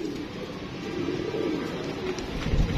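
Soft, low pigeon cooing close by, a steady murmuring coo with a slightly louder swell near the end.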